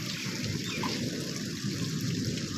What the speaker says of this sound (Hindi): बारिश बहुत तेज़ आ जाई है